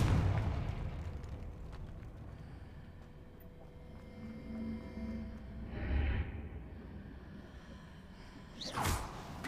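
A Confringo fire spell exploding in the video game Hogwarts Legacy: a muffled low boom with a soft whoosh midway, then a sharper bright burst near the end, set against a quiet game ambience.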